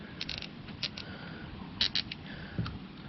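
Flush cutters snip a zip tie, giving a few sharp, quiet clicks and snaps spread over a few seconds against a soft background hiss.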